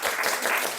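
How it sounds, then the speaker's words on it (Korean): Brief, dense round of hand clapping from a small group applauding a girl named Suyeon for pulling weeds in a garden, filling the moment without talk. "수연이에게 박수 한번."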